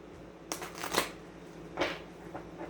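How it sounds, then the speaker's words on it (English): Tarot cards are shuffled by hand in a few soft riffling bursts, close and fairly quiet over a faint background hiss, with no talking. "I've been shuffling them as I've been talking"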